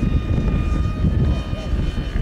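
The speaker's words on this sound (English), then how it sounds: "Listen to that motor going." A motor drones at full throttle in gale-force wind, a loud, steady hum with a faint whine above it, blended with rumbling wind buffeting close by.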